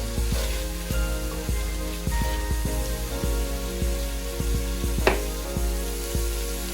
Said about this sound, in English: Stirring to get up all that goodness at the bottom of this pan.